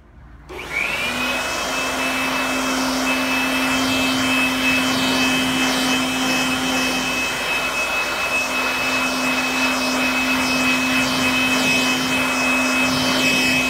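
A pressure washer or water spray rinses car cleaner off a test patch of paint sealant, a steady loud hiss with a constant pump whine running throughout, with no talk.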